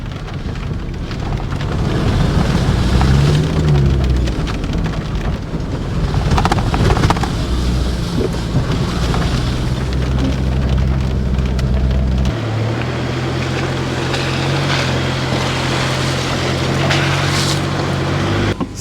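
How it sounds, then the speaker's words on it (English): Steady rain falling while sitting inside a car at a campsite, heard as a dense, constant patter and hiss over a low rumble that shifts partway through, with no talking. "Still raining quite a bit, so I'm just going to sit in the car"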